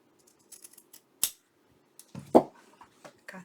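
A few crisp, scattered snips of scissors cutting small pieces of paper and fabric for a tab journal, close and quiet with gaps between cuts.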